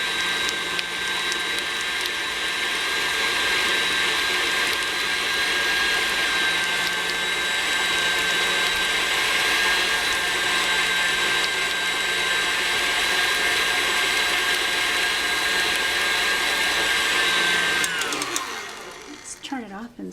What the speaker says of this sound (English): it might involve a little bit of stop and go here with the mixer